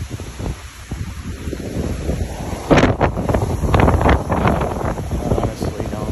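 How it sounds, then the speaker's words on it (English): Strong, gusty wind buffeting the microphone outdoors at a house, with a steady roar that swells into heavier rumbling blasts partway through. "insane winds."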